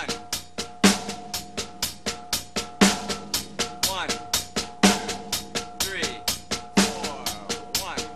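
Snare drum played slowly by hand as steady sixteenth-note ghost strokes with a louder accent on each beat, close and even, with no voices.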